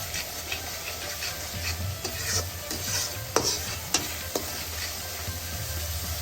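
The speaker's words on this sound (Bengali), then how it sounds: "সব গুঁড়া মশলা দেওয়া আছে, যা যা নর্মাল তরকারিতে আমরা দিই সবকিছু দিচ্ছি। এখন ভালো করে এটাকে কষাই নেব।" Kofta curry with ground turmeric, chilli, cumin, coriander and garam masala is stir-fried in a pan, with a steady soft sizzle and continuous scraping strokes plus a few sharp clicks of the spoon.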